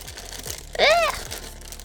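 A brief crinkly snip of scissors cutting plastic packaging, a single crackling burst rising out of faint background noise.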